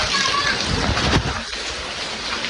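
Heavy monsoon rain pouring and splashing water close by, a loud steady wash with a sharp splash burst in the middle and no talk.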